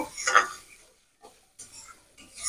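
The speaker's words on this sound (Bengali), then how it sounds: "এবার ভালো করে নেড়ে চেড়ে মশলাটা কষে নেব।" Spice paste with a splash of water being stirred and fried in a pan for prawn malai curry made without onion or garlic: soft, intermittent scraping strokes, quiet, with short pauses between them.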